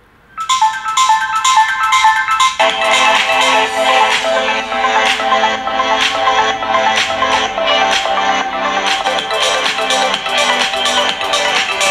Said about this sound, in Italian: sentite quanto è alto l'audio, quindi viva voce, altoparlante, volume sempre molto molto alto